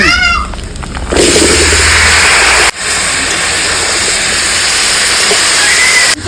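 Pumpkin pieces dropped into a hot pan with fried shrimp, cumin and coriander, bursting into a loud continuous hiss of sizzling oil that stays strong and steady, briefly dipping once as the pan is stirred.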